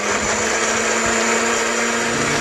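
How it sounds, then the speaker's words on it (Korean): Blender running steadily with a continuous whirring, grinding drone, loud and close, holding an even pitch throughout with no voices. "믹서기에 갈았어요."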